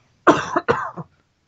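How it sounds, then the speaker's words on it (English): Two harsh coughs in quick succession, close and loud, followed by quiet. "I got a cough suddenly."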